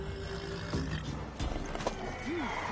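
A mare in The Witcher 3 gives a short neigh after a few hoof clops, heard quietly amid game ambience with faint background voices.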